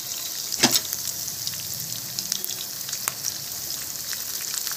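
Ginger, garlic and dried red chillies roast in a pan for a sambar, giving a soft, steady sizzle with a few sharp clicks and stirring scrapes close by.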